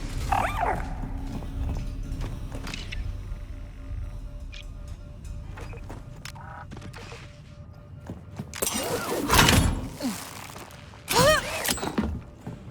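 A dog in Star Wars Outlaws yips and whimpers in scattered short bursts, then barks loudly in a couple of sharp clusters near the end, with faint ambient tones and footsteps around it.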